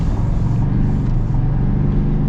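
A 2025 Chevy Silverado ZR2 Bison diesel pickup accelerates hard, its engine a steady, loud, low rumbling drone heard close up from inside the cab, with no talking.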